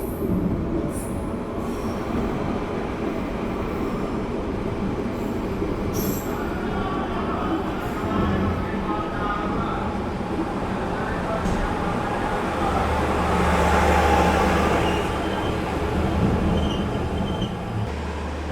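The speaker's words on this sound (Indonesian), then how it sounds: "kereta api Pandalungan telah tiba di stasiun Bangil" The Pandalungan passenger train pulls into Bangil station, a steady rumble of rolling wheels and carriages with faint squeals, and a deep low drone rising near the end as it slows.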